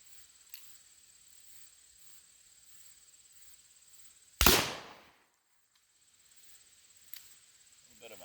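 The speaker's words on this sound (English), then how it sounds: "A little bit of a hang fire on that one." A Pietta black powder revolver fires after a slight hang fire: one sharp, loud report that decays quickly, with faint clicks before and after, crickets chirping softly outdoors, and a long quiet stretch following.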